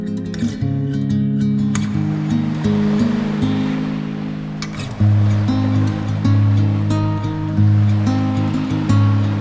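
Sea waves wash and break on the shore beside a seaside campsite, a loud continuous surf roar with surges, alone without voices.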